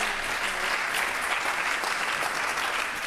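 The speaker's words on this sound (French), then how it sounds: "Oui, on peut les applaudir." An assembly audience applauds steadily and densely throughout, a close, sustained wash of many hands clapping with no break.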